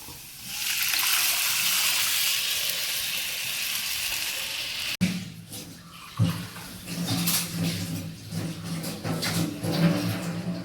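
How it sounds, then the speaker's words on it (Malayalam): Tamarind water is poured into a pan of fried ginger for puli inji: a loud rushing pour for about five seconds, then a bubbling sizzle with small pops and spatters. "നമുക്കിനി ഇതിൻ്റെ അകത്തേക്ക് നമ്മൾ എടുത്ത് വെച്ച് പുളിവെള്ളം ഇതൊക്കെ ഒഴിച്ചു കൊടുക്കാം"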